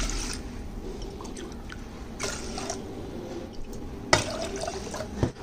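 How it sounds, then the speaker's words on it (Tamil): Water poured from a glass into a cooker, a soft steady splashing and trickling with a few louder drips and clinks, close by and with no talk. "இப்போ இதுக்கு தண்ணி வந்து இதே அளவு கிளாஸில் மொத்தம் 3 glass வந்து ஊற்றணும்"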